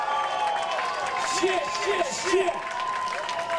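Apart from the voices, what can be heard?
festival crowd applauding and cheering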